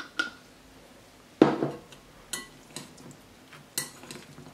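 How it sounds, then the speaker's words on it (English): A utensil scrapes and clinks against a pan as tofu is stirred through Caribbean barbecue sauce, making a handful of short, close taps and scrapes with quiet gaps between them. "Just mix it through, and you can use whatever sauce you fancy."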